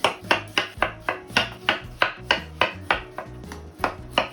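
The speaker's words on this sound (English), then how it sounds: "and chop it into smaller pieces" Knife chopping trimmed celery into smaller pieces on a board, a quick regular series of about a dozen sharp, close thuds.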